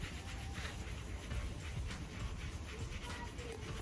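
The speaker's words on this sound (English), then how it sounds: "Now I'm getting the Scotch-Brite with a little bit of degreaser. And then basically what you're gonna do is you're gonna sand it." A Scotch-Brite pad with a little degreaser scrubs a car engine part during a manual G35 rebuild, making a faint, continuous abrasive rubbing with soft irregular strokes and low background noise.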